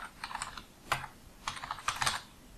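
Fingers type on a computer keyboard to enter login details, producing a few quick clusters of close, light key clicks separated by short pauses, with no talking.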